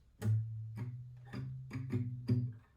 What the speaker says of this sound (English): It's when I mute my guitar with the palm of my hand.